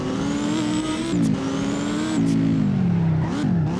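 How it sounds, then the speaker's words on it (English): An Audi R8 with a V10 engine in the Driving Empire racing game revs up loudly and close, climbing in pitch with quick drops at gear shifts as it accelerates, with no voices over it. "Now let's actually hear the acceleration sound."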